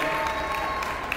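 Steady crowd applause at an indoor horse show in Paris honours a rider, a brief continuous patter of many hands at moderate, even volume.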